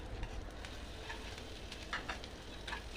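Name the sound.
chopped onions frying in mustard oil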